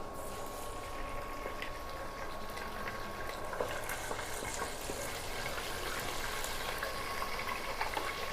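Ginger garlic paste sizzles in a cup of hot oil, a dense continuous crackle and spatter with small pops, steady and close without talking.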